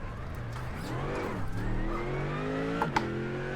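A race car engine in the iRacing sim at Hockenheim revs and shifts, its pitch rising and dipping through several gears with a couple of sharp clicks near the end, clear and close with no talking.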